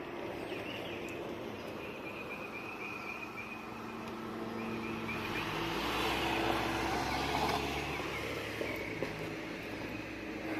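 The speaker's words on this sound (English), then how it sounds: "I see another car here. Let's stop for this car." A car goes by on a dry, breezy California street, its engine growing louder to a peak midway and then fading, with faint birdsong and outdoor ambience around it.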